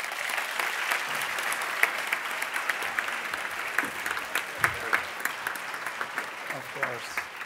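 Sustained, steady applause from a convocation audience at a School of Hospitality Administration ceremony, welcoming speaker Punit Shah, filling the whole stretch at an even level without a break.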